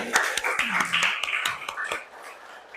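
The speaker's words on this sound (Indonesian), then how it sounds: "Tepuk tangan untuk semuanya" A classroom of students claps together for everyone, a burst of close sharp hand claps that thins into scattered claps before fading.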